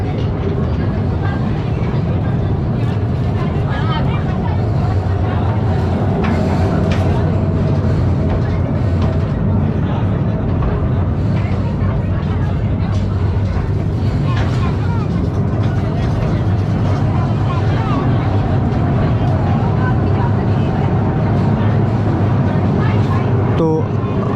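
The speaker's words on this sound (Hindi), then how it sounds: "ट्रेन जो है मेन नमक की कान में जा रही है।" A special train rolls into the Khewra salt mine in Pakistan, a continuous loud rumble and clatter of the small carriages echoing inside the tunnel, with people's voices mixed in throughout.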